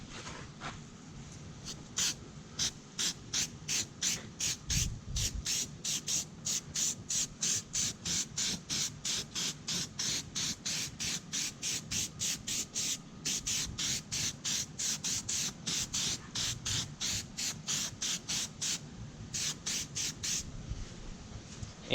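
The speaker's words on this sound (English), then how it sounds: "let's give it a test spray" An aerosol can of headlight coating sprays in a long series of short, rapid hissing bursts, fairly close and steady in rhythm, with no talking.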